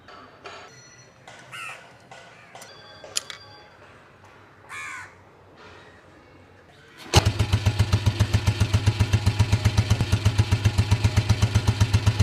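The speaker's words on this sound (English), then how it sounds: "This BMW starts with one tap." BMW motorcycle engine fires up with a single tap on a cold early morning in a residential area, settling at once into a loud, steady, rapid idle chug; crows caw nearby before it starts.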